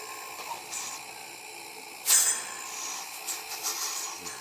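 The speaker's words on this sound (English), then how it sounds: "Now then, they turn the other compressor on." A compressor in an off-grid Magrav unit setup is switched on partway through, with an abrupt burst followed by a steady broadband hiss and hum that continues to the end.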